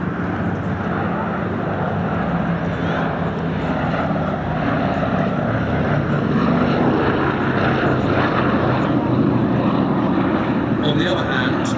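A B-17G four-engine bomber makes a low pass at the Sywell Airshow, its radial propeller engines giving a loud, steady, throaty drone that swells slightly toward the end, with a voice faintly under it.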